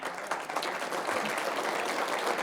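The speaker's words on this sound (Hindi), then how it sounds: "झटकेदार तालियां मिली आपकी" Brief, fairly faint audience clapping at a Hindi poetry gathering (kavi sammelan), a steady wash of many hands over a couple of seconds.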